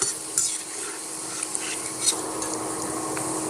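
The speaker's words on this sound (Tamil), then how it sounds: "சலசலப்பு சத்தம் அடங்கணும் அதே நேரம் கருகிடக்கூடாது" Banana flower pakoda deep frying in hot oil gives a steady, close crackling sizzle, with a few brief clinks of a utensil stirring through it.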